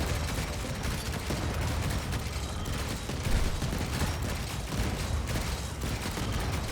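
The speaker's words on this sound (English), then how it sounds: "But my colonists are also shooting." Scattered gunfire from colonists and turrets battling attackers in the sci-fi survival game Stranded: Alien Dawn, a steady crackling volley of shots with occasional heavier thumps, moderately loud and continuous.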